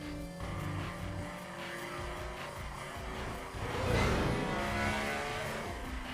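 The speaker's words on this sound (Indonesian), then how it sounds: "Roman berhasil melewati 2 truk kontainer yang disusul oleh Connor." Street racing cars roaring past container trucks on a highway in a Fast & Furious film, a sustained engine drone with a louder surge of acceleration midway, mixed with film score.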